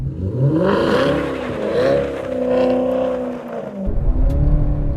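A Maserati engine revs up and accelerates in sub-zero cold, rising and falling harmonic engine tone over several seconds, loud and close, with a sharp rumbling burst near the end.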